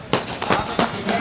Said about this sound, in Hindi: देखिए अभी बैठे आतिशबाजी हो रही है